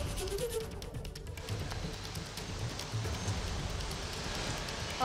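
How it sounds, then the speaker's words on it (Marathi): Rain falling across Pune, a steady wash of drops heard alone at moderate level throughout, with no voices over it. "पुण्यात अनेक ठिकाणी पावसाला सुरुवात झालेली आहे।"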